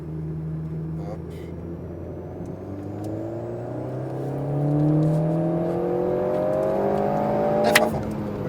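An Alpine A110S sports car engine revs and accelerates on the La Ferté Gaucher racing circuit, pitch climbing steadily through the gears, loud and close, with a brief clatter near the end.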